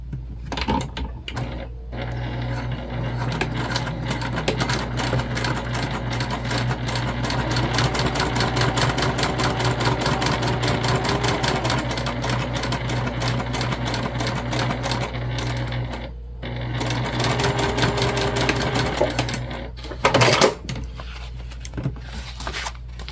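A sewing machine stitching a crossbody bag runs in a long, steady, close mechanical whir with quick rhythmic needle ticks, briefly stopping twice before resuming, and no voices.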